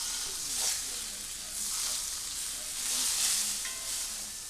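Butter sizzles in a hot cast iron skillet, a steady, fairly close hiss with gentle swells and no talking.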